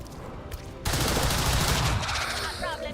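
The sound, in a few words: gunfire from squad opening fire in video game XCOM 2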